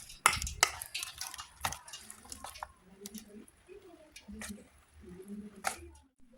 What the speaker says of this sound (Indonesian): Lalu diaduk-aduk sampai tercampur semua